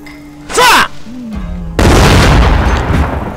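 A cannon fires in Total War: Shogun 2 with an Imjin War mod, one loud, close blast followed by a long rumbling tail. Short vocal sounds come just before the shot.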